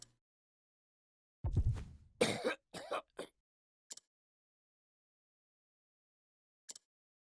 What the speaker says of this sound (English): Cough, cough, cough, cough, cough!